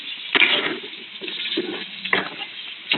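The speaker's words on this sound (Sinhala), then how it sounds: "අපි වතුර දාගන්න ඕනේ මේක තැම්බෙන්න." Water goes into a pan of frying kekiri (snake cucumber), giving a loud sizzling burst, then a softer bubbling hiss, and another splash near the end, close up with no voices.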